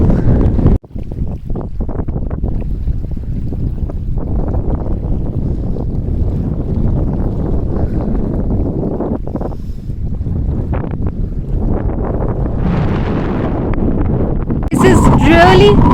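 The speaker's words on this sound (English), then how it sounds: "Really windy and really chilly." Strong wind buffets the microphone in a constant loud roar, with gusts rising toward the end, at Chang La, a high mountain road pass, on a chilly day.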